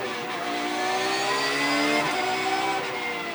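An ADAC GT Masters GT race car at Zandvoort pulls out of a turn in first gear and grabs second, its engine note climbing steadily, dipping briefly at the upshift, then rising again, loud and close with no voices.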